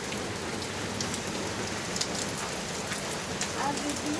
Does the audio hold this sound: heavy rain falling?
yes